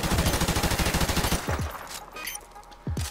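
A video game firefight in a two-versus-one match: a fast, steady stream of automatic gunfire for about a second and a half, then a few scattered single shots against quieter background sound.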